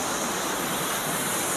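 Gad Gada waterfall near Chatikona roars as a steady, loud, broadband rush of falling water, with no voices.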